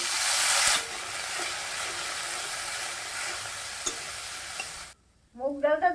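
Cauliflower drops into hot oil already seasoned with dried red chili, bay leaf, cumin and chopped ginger, giving a loud burst of sizzling that settles into a steady frying hiss, then cuts out near the end before a brief voice.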